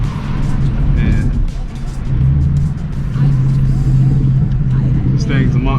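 A loud Ford Mustang with an aggressive exhaust revs up close, with a deep throaty rumble that swells in repeated bursts over a steady idle.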